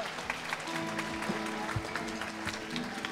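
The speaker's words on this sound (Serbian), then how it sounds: "Veliki aplauz za vas." Audience applause at a youth music concert, a faint, steady wash of many hands clapping from a distance, with a voice talking over it.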